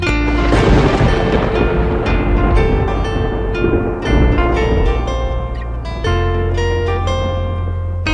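Rumbling thunder sound effect blended into a children's nursery rhyme song, rolling loudly beneath steady music and sustained melodic notes throughout.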